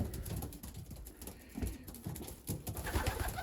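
Young pigeons coo in a loft aviary on a warm day, low soft throaty calls repeating in a loose rhythm against a faint background hiss, fairly quiet and unaccompanied by talk.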